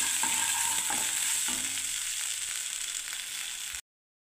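Spice paste with chili powder and turmeric cooks in a pan for lau shukto, a steady close sizzle with a few soft stirring scrapes, ending abruptly in silence.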